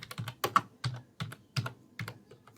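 Code being typed on a computer keyboard during a CSS lesson: a steady run of crisp, close key clicks in quick irregular bursts, with no voice over them.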